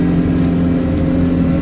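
The engine of a Deere 333G skid steer with a mulcher attachment runs after a stall, a loud, steady mid-pitched drone holding constant and close with no voices.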